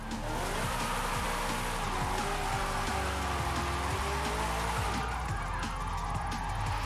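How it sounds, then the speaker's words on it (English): A Gordini 8 drifting and spinning out in Forza Horizon 5: loud racing engine revs climb and fall while tires squeal continuously, with no voices. "wanted to just go absolutely wild and spin the car out"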